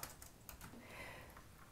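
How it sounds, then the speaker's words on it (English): Soft, rapid clicking from typing on a small laptop keyboard, faint and steady, with no voices. "Your hands are working on a small keyboard"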